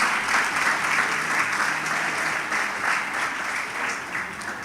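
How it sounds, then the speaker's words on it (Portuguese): A church congregation claps and applauds during a sermon, a dense continuous wash of hands that swells and eases slightly over several seconds, with no talking over it. "Aplaude se é para Jesus."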